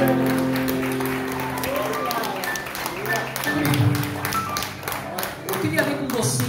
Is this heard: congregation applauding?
yes